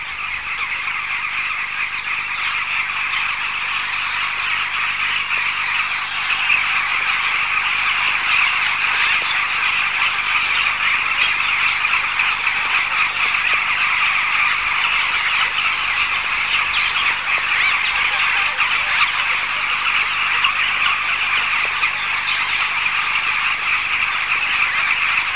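A colony of bee-eaters keeps up a dense, continuous chorus of shrill calls while mobbing a monitor lizard raiding their sandbank nests, a loud, unbroken wash of sound with no voices.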